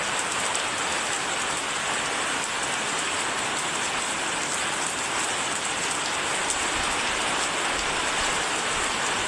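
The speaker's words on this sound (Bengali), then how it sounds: "এই দেখো বন্ধুরা, কইতে না কইতে বৃষ্টি আইছে।" Heavy rain falls in a steady, dense hiss that stays loud and unchanging, with no voices.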